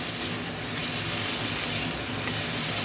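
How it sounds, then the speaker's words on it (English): Okra and potatoes fry in a pan with a continuous, even sizzle and soft hiss of hot oil, close and steady throughout with no talking. "fry all your okras and potatoes well"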